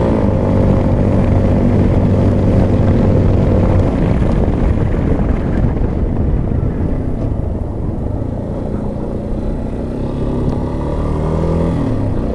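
Steady, loud engine drone from a Yamaha XTZ Lander 250 motorcycle on the move, mixed with rushing wind noise, holding fairly constant and easing slightly midway, with no voices.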